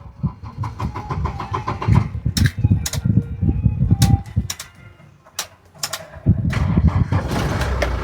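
A used car's engine idles nearby with uneven mechanical knocks and clatter, then settles into a steady hum near the end, while birds chirp faintly in the background.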